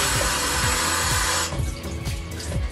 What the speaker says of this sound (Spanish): ahora estamos listos para enjuagar nuestras manos